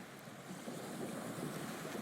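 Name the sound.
ferry boat engines on water coming into port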